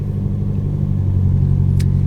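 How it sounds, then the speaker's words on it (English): Car engine idling high because of a vacuum leak, a steady close low rumble with even tone throughout and a brief faint hiss near the end. "I don't even understand why it's idling so high."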